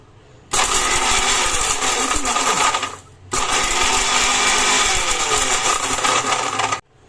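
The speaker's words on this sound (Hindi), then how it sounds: "तो इसे आराम आराम से पल्स मोड पे चलाते हुए पीछे।" Mixer grinder grinding dry spices into powder on pulse mode: two loud, close, roaring bursts a few seconds long with a short pause between them, and no speech.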